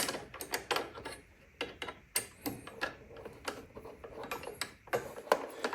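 Hand wrench clicking as it tightens a bolt on the engine guard of a 2020 Honda Goldwing Tour DCT, a run of sharp close ratcheting ticks in uneven bursts with no talking.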